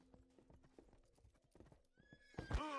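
Rapid hoofbeats clatter along at a gallop, then a horse lets out a loud, shrill neigh at the end, in the medieval video game Rustler.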